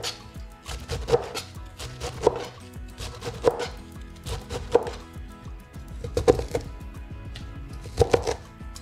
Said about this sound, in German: Und Chinakohl wird in feine Streifen geschnitten